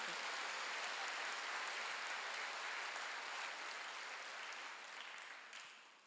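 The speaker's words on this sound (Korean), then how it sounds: "믿는 사람만 박수야" A church congregation claps together during a Sunday worship service, a dense, steady patter of many hands that slowly thins out toward the end, heard from a distance with no voice over it.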